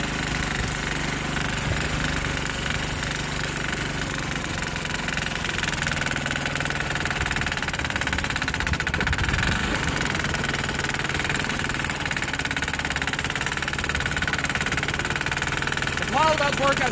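A 6HP Sears Suburban diesel tractor engine chugs and knocks steadily as it plows through heavy snow, running loud and continuous throughout, with voices talking over the engine noise.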